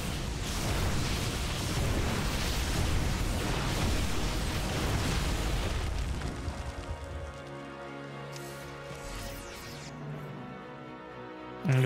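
A Disruptor shot detonates in a StarCraft II match: a loud, dense crackling burst fills the first six seconds, then thins out into quieter game tones and scattered clicks.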